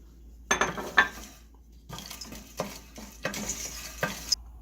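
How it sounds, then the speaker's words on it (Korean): Dried shrimp and anchovies being lightly stir-fried in a pot for mallow soybean paste soup: several scraping stirs and soft sizzling bursts, close and moderately loud, with quiet pauses between strokes. "새우하고 멸치를 비리니까 살짝 볶아주겠습니다."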